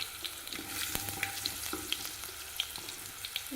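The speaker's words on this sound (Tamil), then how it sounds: "கடுகு நல்லா பொரிஞ்சிருச்சுங்க" Mustard seeds splutter in hot oil with crushed garlic and asafoetida for ginger thokku, with sharp scattered pops over a steady low sizzle, close and moderately loud.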